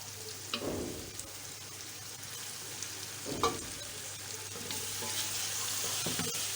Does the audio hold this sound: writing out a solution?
no